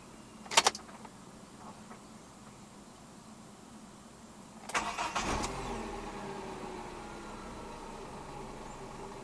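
A 2018 Haval H1 1.5 starting with a key: a sharp click of the key first, then a brief cranking burst as the engine catches and settles into a steady, quiet idle, heard close from inside the car.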